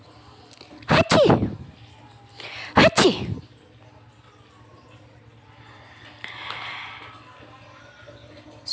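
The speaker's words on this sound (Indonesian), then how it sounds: "Itu merupakan suara bersin." Two sharp sneezes, about two seconds apart, loud and close, performed by a teacher's voice in a lesson on sneezing and yawning etiquette in Islam, followed by quieter breathy noise.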